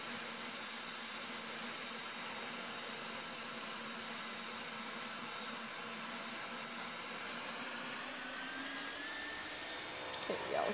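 An airplane's engines roar steadily during takeoff, a dense, constant wash of noise with a slowly rising whine.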